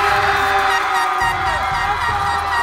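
A high school game day crowd cheers and whoops steadily at full volume, a dense wall of shouting voices filling the space throughout.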